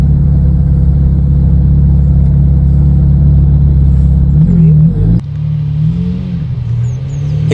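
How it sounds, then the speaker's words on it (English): A convoy of supercars driving toward Allerton Castle for a season-opening meet: a loud, steady low engine drone from close by, shifting pitch and easing off about midway as the engines change note. "we dropped onto the back of a convoy of cars all heading for Allerton Castle"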